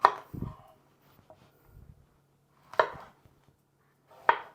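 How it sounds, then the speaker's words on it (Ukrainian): A knife cuts apples with the peel left on against a board: a few sharp, separate chops spaced well apart, close and fairly quiet, with light handling noise in between. "Тепер будемо нарізати яблучка."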